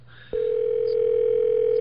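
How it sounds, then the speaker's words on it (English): A telephone dial tone clicks in abruptly and then holds as a steady, loud, unbroken hum while a call is being placed to a radio program director. "Scott Clark is who Neely's ringing up on the phone now"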